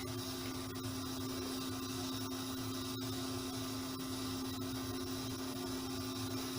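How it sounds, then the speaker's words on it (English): An ultrasonic cleaner runs with a carburetor body from a 1970 Harley Davidson Leggero, Dellorto ME18 BS, inside. It gives a steady, faint electronic hum with a fizzy hiss that stays even throughout. "That noise is the ultrasonic cleaner."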